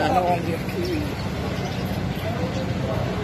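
Pigeons cooing and other birds calling at a busy outdoor bird market, soft low coos mixed with faint chirps under nearby chatter and market bustle.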